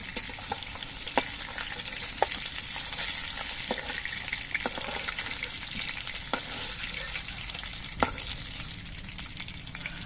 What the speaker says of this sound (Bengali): মাছের পিসগুলো উল্টে পাল্টে নিয়ে আমি দু পিটি ভেজে নিয়েছি